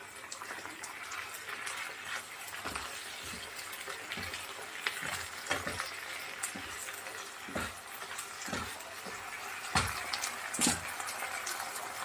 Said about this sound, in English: I want the fish to fry. All right, let me just yank up the flame a little.